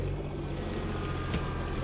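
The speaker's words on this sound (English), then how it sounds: "And of course I'm using the tractor and the grapple." A tractor fitted with a grapple works close by, giving a steady low engine drone with a faint clank partway through.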